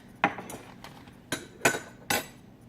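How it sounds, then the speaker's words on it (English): A utensil knocks and clinks sharply against a bowl while an egg is lightly beaten for banana bread, a few distinct taps spaced unevenly, close and clear. "So blend it up just lightly, I guess."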